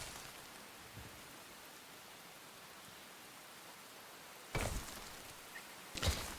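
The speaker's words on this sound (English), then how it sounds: "So I think the rain is even nicer, isn't it?" Soft, steady rain hiss from the Enshrouded video game, a quiet wash of falling drops with a couple of brief louder bursts toward the end.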